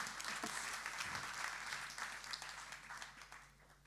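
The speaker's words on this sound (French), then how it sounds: "Je pense qu'on peut applaudir Microhumus" Applause from the audience at a sustainability forum after a start-up pitch, a dense, fairly faint and distant spread of many hands clapping that tapers off toward the end.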